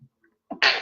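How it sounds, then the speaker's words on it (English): One person sneezes close by, with a short catch of breath before a sharp, loud burst at the end. "I feel like I want to sneeze."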